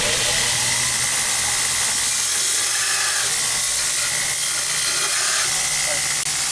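A belt grinder hisses loudly and continuously as a knife's hollow grind is pressed against the flat platen for a couple of strokes, a harsh abrasive roar with no talk over it.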